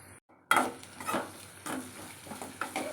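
Onions and brinjal sauté in a pan with soft sizzling and scraping stirs of a spoon, close and fairly quiet, after a brief silence.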